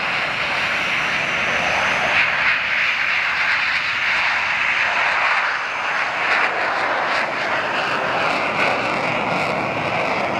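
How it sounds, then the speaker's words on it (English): Two JAS Gripen jets take off together with a loud, continuous roaring jet-engine blast that stays steady and close throughout, with a rumbling low end and a broad hissing upper roar. "These two Jaws Gripens taking off synchronized with each other."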